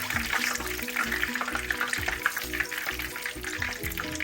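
Meat and pork stir-fry in oil previously used for frying catfish, giving a continuous close sizzle with rhythmic stirring and scraping throughout.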